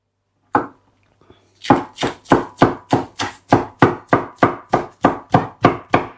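Spring onion chopped on a cutting board for a pasta garnish, one early knife strike, then a steady run of about fifteen crisp, close, evenly spaced chops.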